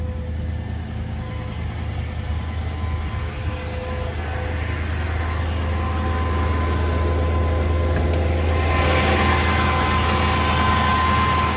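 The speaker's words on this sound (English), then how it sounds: "Nice, smooth running V8." A 1976 Lincoln Continental Town Car V8 engine idles steadily with a deep, even low-pitched hum and faint mechanical whir, growing slightly brighter near the end.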